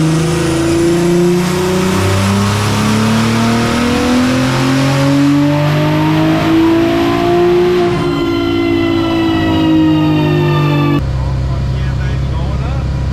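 A BMW B58 inline-six, built toward 1000 hp, revs hard on a dyno, its loud tonal drone climbing steadily through a long pull before dropping off sharply near the end.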